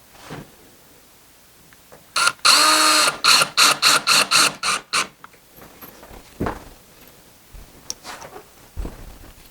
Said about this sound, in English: Make sure you push it together and then put your screw in.